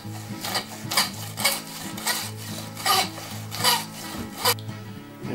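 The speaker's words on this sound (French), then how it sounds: "là je suis en train de nettoyer, d'enlever les petites tignasses, les bouts de tendons" Tendons are being scraped off raw bear meat in about six rhythmic strokes, each a close, rasping rub over a low steady hum with no talking.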